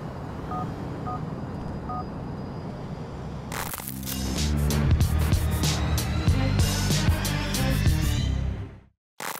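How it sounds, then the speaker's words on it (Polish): A mobile phone SMS alert in GTA 4 sounds as a few short electronic beeps. They are followed by a louder, busy stretch of in-game sound that cuts out abruptly near the end. "SMS-ik doszedł praktycznie od razu po wyjściu z klubu"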